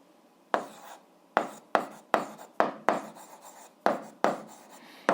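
A pen writes out an eighth-grade algebra solution on paper: about ten short, scratchy strokes in a steady rhythm, close and quiet, with no talking.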